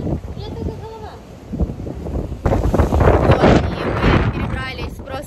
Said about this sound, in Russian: наверное, такой ветрюган, что и не слышно, что мы там говорим.